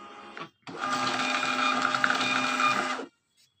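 A DC 421 label printer runs a 4x6 label with a thermal transfer ribbon. A short mechanical burst comes first, then a steady, close whirring and buzzing drive that lasts about two and a half seconds before stopping abruptly. No one talks.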